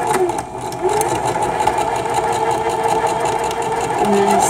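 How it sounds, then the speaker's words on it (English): A sewing machine runs steadily, stitching fabric along a straight seam toward a corner, giving a continuous close mechanical whir and hum throughout with no speech. "then sew down that straight line until you start to approach the corner"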